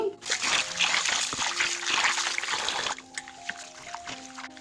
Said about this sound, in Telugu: ఈ విధంగా శుభ్రంగా ఒక రెండు మూడు సార్లు కడుక్కొని పక్కన ఉంచుకోవాలి